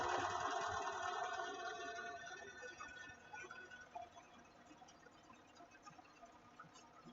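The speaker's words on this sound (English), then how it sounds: "now I'm ready to stitch" A Bernina sewing machine stitches fabric at close range, a quiet even ticking hum that fades from a louder start into soft rhythmic clicking.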